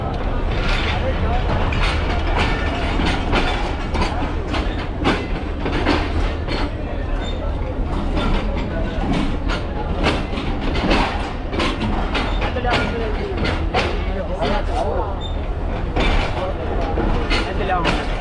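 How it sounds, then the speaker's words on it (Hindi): Train pulling away from a railway station, a steady rumbling rail roar with rhythmic clicking that fills the whole stretch, with people talking nearby over it. "ट्रेन जा चुकी है, रवाना हो चुकी है।"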